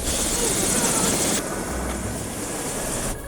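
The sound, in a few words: helicopter flying over New York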